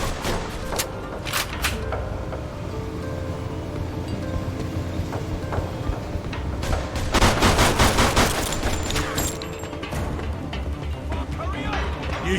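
Gunfire in the PC game Mafia 2, with bursts of rapid shots and heavy booms cracking across a busy battle, loud and close, while characters shout over the shooting.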